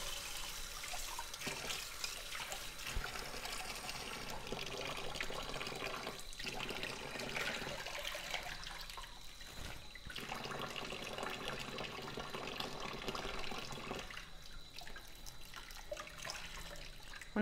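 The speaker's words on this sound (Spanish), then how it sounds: "simplemente con la presión del agua" Tap water sprays steadily, rinsing vegetable residue off a kitchen extractor hood filter, a continuous splashing rush with brief changes as the spray shifts.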